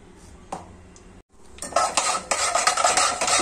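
Cumin seeds tipped into hot oil in a bowl for flattened-rice upma: a few faint clinks, a brief hush, then a loud, crackling sizzle with scraping stirs that builds and holds to the end.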